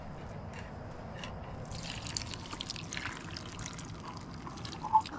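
Milk poured into a camp cooking dish over a fire while camping in Australia, a faint, steady liquid trickle and splash, with a small louder splash near the end.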